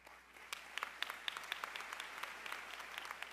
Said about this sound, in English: give you a round of applause as well, please.